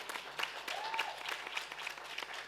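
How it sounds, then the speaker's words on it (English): An audience applauds at an Aspen Institute community event, a dense, even wash of clapping that is faint and distant, with a voice briefly audible beneath it. "I think she deserves a better hand clap."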